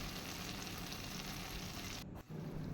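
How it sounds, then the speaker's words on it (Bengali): Cashew and poppy seed paste sizzling in hot oil in a pan while cooking paneer, a steady broadband frying hiss with a brief dip near the end, close and continuous with no talking. "কাজু আর পোস্তর যে পেস্টটা করে রেখেছি সেটা কিন্তু তেলে দিলাম"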